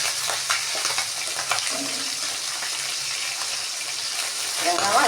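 Tangra fish frying in a pan with oil, giving a steady broadband sizzle with crackles and spits throughout, close and fairly loud, with brief voices faintly in the background.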